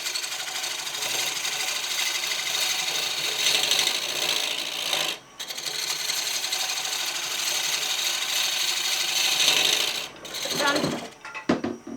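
Woodturning lathe pull cuts on a square wooden platter, a steady close scraping, rasping hiss of the gouge on spinning wood, broken by short pauses as the tool lifts off.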